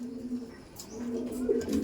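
Dom pigeons coo in a loft, a low steady murmur of overlapping calls that swells toward the end, close by and moderately loud with faint chirps above.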